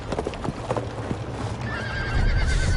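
A horse in the video game Fated: The Silent Oath gives a loud, close neigh while hooves clatter in a quick clip-clop rhythm beneath it.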